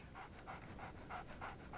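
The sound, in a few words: dog panting in a Sherlock Holmes video game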